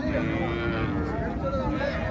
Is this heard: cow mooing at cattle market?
yes